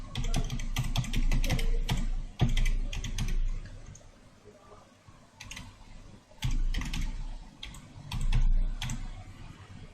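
Someone types an account name and password on a computer keyboard, a close run of quick clicking keystrokes in uneven bursts with short pauses between them.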